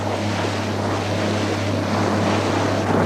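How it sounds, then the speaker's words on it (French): A motorboat engine drones steadily with a low, even hum on Loch Ness, mixed with rushing wind and water noise throughout. "Le moteur semble bien marcher."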